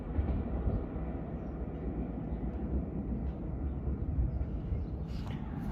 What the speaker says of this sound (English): Passing through now is a ScotRail service from Edinburgh Waverley to Perth.